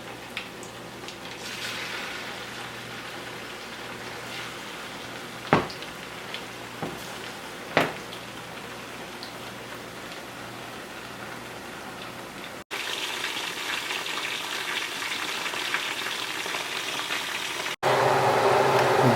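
Chicken 65 pieces sizzle in hot frying oil with a steady hiss broken by a few sharp pops, and the level jumps abruptly louder twice.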